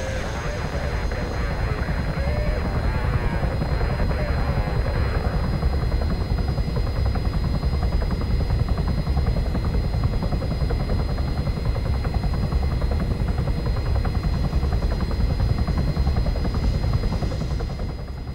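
A helicopter in the Arma 3 video game flies overhead with a constant loud rotor chop and engine whine throughout, and voices talk over it early on.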